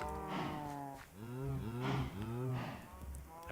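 Several Minecraft cows moo in overlapping, drawn-out lowing calls, close and fairly loud, with one call after another over a few seconds.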